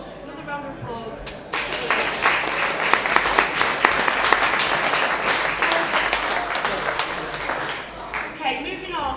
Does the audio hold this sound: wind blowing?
no